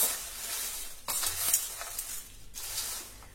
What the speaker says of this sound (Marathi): आता आपण हे सर्व एकत्र मिक्स करू।